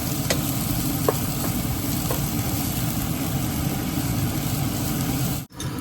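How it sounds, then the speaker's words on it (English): Ingredients for a sorak curry sizzle steadily in a hot pan while being sauteed, a loud, even frying hiss throughout with a few faint stirring clicks and a brief dropout near the end. "So saute it. It's getting some color."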